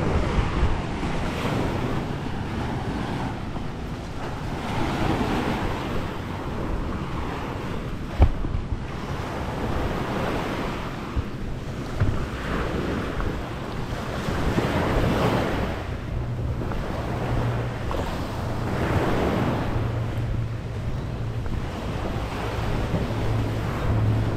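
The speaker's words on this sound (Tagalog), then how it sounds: "Ito yung Diniwid Beach." Waves wash ashore on Diniwid Beach in Boracay, a continuous broad roar of surf mixed with heavy wind buffeting the microphone, steady and loud throughout with no voices.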